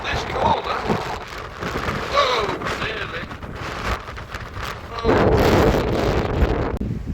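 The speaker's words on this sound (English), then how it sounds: "And as for the wind on this corner" Strong wind roars steadily around the exposed corner of a tower, buffeting the microphone with rough, gusty rumble that swells even louder near the end, with a voice talking faintly beneath it.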